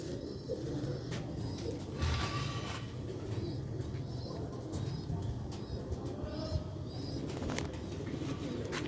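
Sialkoti rooftop pigeons coo softly in the background, low repeated murmurs over a steady outdoor hum with occasional faint clicks and distant sounds.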